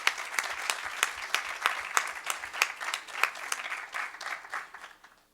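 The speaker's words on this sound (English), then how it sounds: "Audience, let's celebrate with another round of applause." Audience at a board meeting gives a round of applause, with brisk clapping from many hands in a room that swells early and then gradually thins and fades to near quiet by the end.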